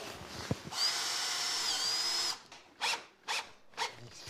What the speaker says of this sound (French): Bon, du coup, je vais la visser.